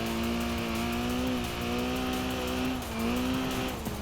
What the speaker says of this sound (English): It's a really great front-wheel drive race car.